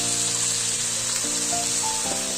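Tomato paste and ginger paste sizzle steadily in a hot pan for a Bengali prawn and jackfruit curry, a constant close hiss with faint tonal hum underneath.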